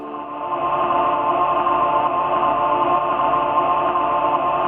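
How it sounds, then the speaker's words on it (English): A sampled choir sound: a sustained chord of blended voices holds steady and full throughout, rich and unchanging, with soft low percussion pulsing beneath. "Now, this choir sound has a fascinating history to it"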